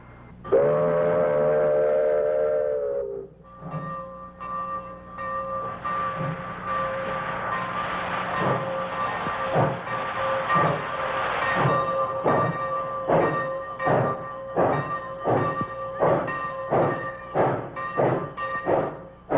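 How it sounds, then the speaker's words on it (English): A loud, sustained steam whistle blast from a 90-ton superheated Baldwin Mikado locomotive, then sharp staccato exhaust chuffs as it climbs a hill, starting slowly and quickening into a steady rhythm. "One blast on the whistle and away for her final run up the hill"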